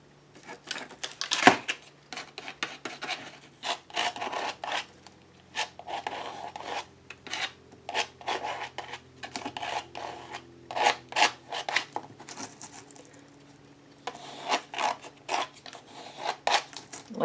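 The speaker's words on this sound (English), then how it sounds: "I'm going to sand this just in a couple of places." Coarse sandpaper on a sanding block rubs over a painted surface in quick, uneven bursts of scratchy strokes, close and fairly quiet, with short gaps between passes.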